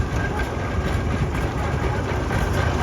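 A 1920 Rumely OilPull antique tractor, model 20-40, runs at an outdoor show with a loud, heavy, steady low engine chug and rumble throughout.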